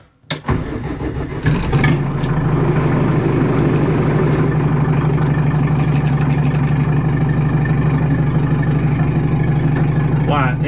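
A Jeep XJ engine heard from inside a sound-deadened cabin cranks and catches in under a second, then settles into a steady, even idle with a low, close hum that continues unchanged to the end.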